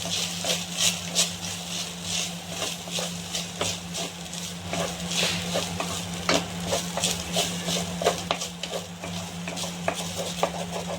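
Pounded rice and grated coconut roasting in a pan for payasam, dry, gritty rhythmic scraping and stirring over a low steady hum, no one speaking.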